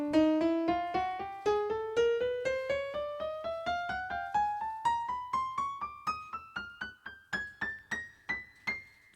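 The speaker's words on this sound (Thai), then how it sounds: "เปิดเครื่องขึ้นมาจะเป็นเสียงเปียโนนะครับ" A Yamaha PSR-E473 portable keyboard on its piano voice plays a steady, evenly paced run of single notes climbing upward, each note struck cleanly and ringing briefly, heard close and alone.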